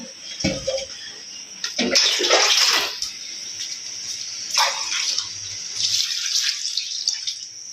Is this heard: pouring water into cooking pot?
yes